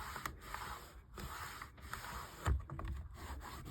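A cloth wipes excess cleaner off a Scalextric slot car track with a soft, fairly faint rubbing that repeats in several strokes, with one small bump partway through.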